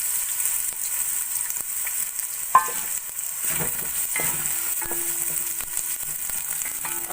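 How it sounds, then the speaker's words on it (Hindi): Long-cut sliced onions fry in a hot pan for a Hindi/Urdu red lobia curry, a steady broadband sizzle running throughout with occasional scraping stirs and a sharp clink of the spoon against the pan, no voices. "अब प्याज को हम ब्राउन कर लेंगे।"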